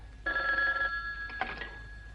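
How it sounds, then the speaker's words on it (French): Old-fashioned telephone bell in a room on The Saint, two steady electric rings, the first long and the second shorter after a brief gap, clear and close, with no talk. "Répondez au téléphone."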